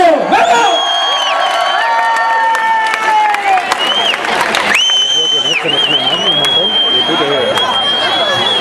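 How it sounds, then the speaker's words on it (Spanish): A concert crowd roars, whoops and whistles while clapping for a band at a show in Egaleo, Leganés. The cheering is loud and sustained throughout, with shrill whistles rising over a dense wash of voices and applause. "¡Un fuerte aplauso!"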